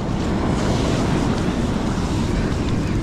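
Ocean surf breaks on a cold winter California beach, a loud, dense roar of waves with heavy wind buffeting the microphone throughout.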